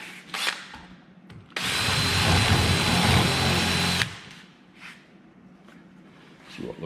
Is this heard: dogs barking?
no